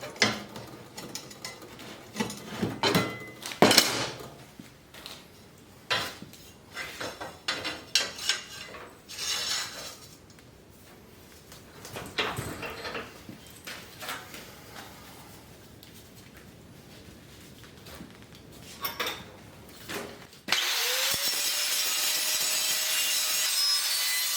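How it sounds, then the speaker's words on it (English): Cut metal circle for a chimney cap, clamped in a vise and ground smooth, with rough scraping passes in irregular bursts, then a steady loud continuous grind in the final seconds. "I'll grind that up and make it look good. Get this in the vise."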